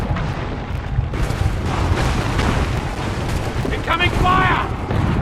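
Incoming artillery fire in Assassin's Creed III: a sustained rumble of booms and blasts, loud and continuous, with shouting voices faintly mixed in over the din.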